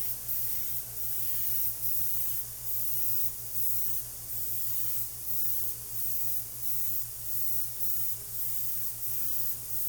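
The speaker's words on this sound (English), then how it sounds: "See how at each stroke, I start and stop the paint coming out." An airbrush sprays paint while airbrushing a background, hissing in a steady rhythm of short bursts about half a second apart as each stroke starts and stops, close and alone.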